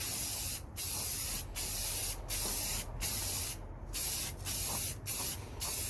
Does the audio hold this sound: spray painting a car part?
yes